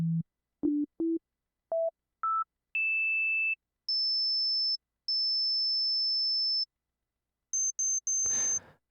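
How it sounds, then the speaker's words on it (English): A run of pure sine test tones from an audio plugin, each holding steady before stepping higher in pitch, short low blips giving way to longer sustained notes, with a brief burst of noise at the very end. "So let's select a sine wave"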